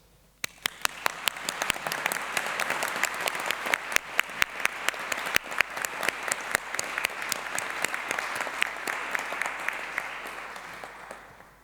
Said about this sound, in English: Let's start today's ceremony by giving you all a round of applause.